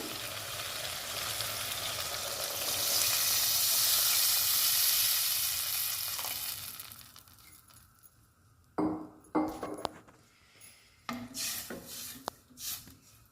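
Water heating in a pan for a lentil stew hisses and sizzles steadily for several seconds, then fades to quiet, followed by scattered close clinks and scrapes of utensils.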